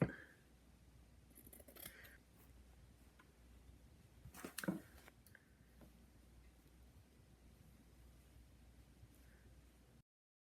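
Scissors cut through layered fabric for an origami mug rug, giving faint, close snips and soft crunches in a quiet room. A louder snip sounds near the middle and no one speaks.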